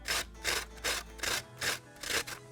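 Jalapeno pepper rubbed across the small holes of a metal box grater in a kitchen, about six steady rasping strokes in a regular back-and-forth rhythm, close and fairly quiet with no talk.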